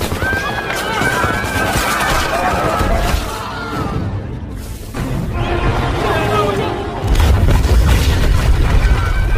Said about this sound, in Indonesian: muncullah kelompok pemberontak, yang langsung menghujankan tembakan, di kawasan padat penduduk tersebut